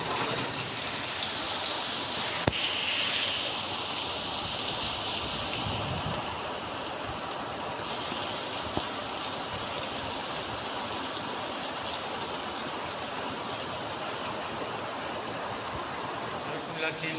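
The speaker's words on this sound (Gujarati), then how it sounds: "વરસાદ પણ અત્યારે ખૂબ સરસ મજાનો પડી રહ્યો છે" Heavy rain pours down steadily and loudly for a long stretch, a constant rushing hiss with one brief sharp click early on.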